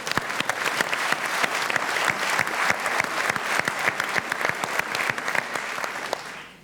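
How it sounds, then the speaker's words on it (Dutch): Audience members at a Dancing Peel en Maas dance show applaud with dense, steady clapping for several seconds before it tapers off at the end. "Jullie mogen er wel voor klappen, hoor."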